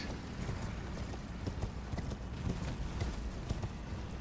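In the Elden Ring video game, a horse gallops with steady, rapid hoofbeats that keep going at moderate volume through the whole stretch, under a dense layer of game ambience, with no talking.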